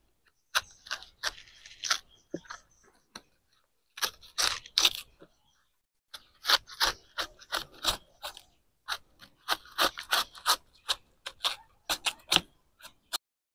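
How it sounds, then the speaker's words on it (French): A knife pares roots and black spots off the base of a banana sucker, with close, irregular crisp cutting and scraping clicks arriving in clustered bursts separated by short pauses. "nous allons commencer ici par le parage qui va consister à retirer toutes ces racines et toutes ces taches noirades"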